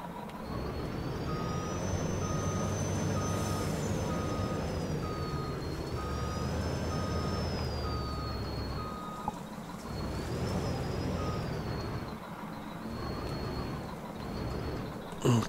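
A tractor reverses in Farming Simulator 19, its steady intermittent reversing beeps sounding over a continuous loud engine drone and whining gear tones, with no talk.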